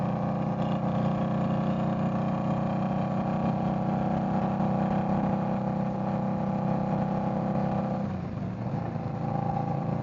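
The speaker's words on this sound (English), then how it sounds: "Put some GP shorties on it, so it's ridiculously loud" An Indian Scout Bobber Twenty with loud GP shorties exhaust pipes rumbles steadily for the whole stretch. The deep, continuous engine note dips briefly near the end, with no voices.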